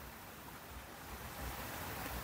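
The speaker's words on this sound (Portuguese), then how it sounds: "E ainda gravando um pouquinho do barulho da água escorrendo" Water running over a reservoir spillway on a rural farm in the sertão gives a faint, steady, even rush with a soft broadband hiss, swelling slightly partway through and heard alone.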